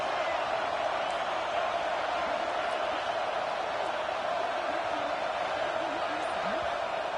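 A stadium crowd at a college football game roars in a steady, dense wash of distant cheering and noise that holds throughout, with no single shouts standing out.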